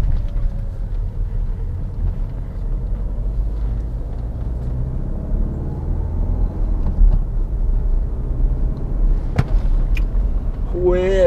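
Citroën DS running on the road, its engine giving a steady low rumble throughout with road noise, a couple of brief sharp knocks near the end.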